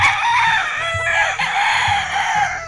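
A young fighting cock (stag) crows loudly and close by in a backyard, one long strained crow with clucking from other fowl around it.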